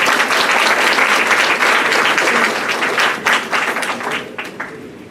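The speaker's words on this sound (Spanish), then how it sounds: "Un fuerte aplauso, por favor." A conference audience applauds the signing of a cooperation agreement with dense, sustained clapping that gradually thins and fades toward the end.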